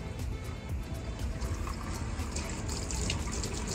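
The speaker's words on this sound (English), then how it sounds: "The sink running." Water runs from the sink faucet of a 2023 Forest River Flagstaff E-Pro 15TB camper, fed by its onboard water pump, a steady close splashing stream heard alone.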